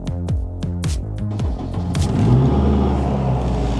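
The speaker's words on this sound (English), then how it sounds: "Very curious how this is gonna sound." A turbocharged Subaru STI engine blips a few quick revs, then holds a louder, rising rev with a deep throaty rumble, recorded close up.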